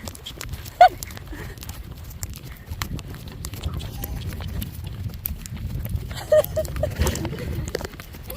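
Pony out on a trail ride toward a lake, hooves striking the ground in a loose, fairly quiet rhythm with a couple of sharper knocks, under ambient outdoor noise and occasional voices.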